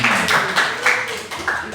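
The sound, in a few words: applause for a friend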